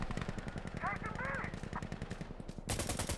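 Rapid automatic gunfire in the shooter game Insurgency Sandstorm rattles in a fast, steady burst, with a brief pause before another loud volley, and a voice speaks briefly over it.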